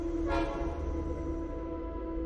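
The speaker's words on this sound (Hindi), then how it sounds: "एक ट्रेन की सीटी, धीमी और गमगीन, वो आ रही थी" A slow, mournful train whistle holds one steady tone over a low rumble, sounding distant and continuous with no voices, set in a horror tale about a station.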